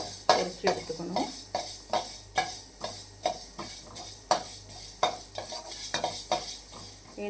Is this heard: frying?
yes